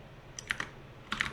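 Computer keyboard typing close by in two short quick clusters of clicky keystrokes, separated by a brief pause, in an otherwise quiet room.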